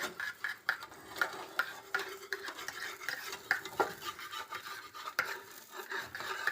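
Cabbage curry with masala is stirred in a pan, a spoon scraping and rasping against the metal in an uneven rhythm of soft strokes and occasional clinks, close up with no talk.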